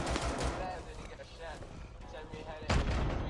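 Pistol gunfire in Rainbow Six Siege comes as a couple of sharp shots, one near the start and a louder crack near the end, over a busy game background while players talk.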